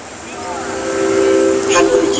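The SRT Royal Blossom tourist train sounds a sustained whistle at its launch ceremony, a steady tonal blast that swells louder over a couple of seconds amid outdoor crowd noise.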